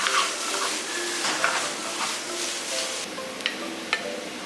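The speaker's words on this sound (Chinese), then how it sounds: "再来把葱段、辣椒丝放进去，开大火翻炒均匀就可以出锅了" Tofu being stir-fried over high heat with pickled mustard greens, scallion segments and chili strips in a Chaoshan home-style dish, giving a steady soft sizzle with a few light spatula scrapes and clicks against the pan.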